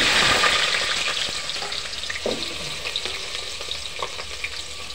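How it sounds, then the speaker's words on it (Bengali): Potatoes fry in hot mustard oil in a pot, a dense close sizzle that is loudest at first and settles into a steady crackling hiss with small pops. "আলুগুলোকে ভেজে নেব তেলে ভালো করে।"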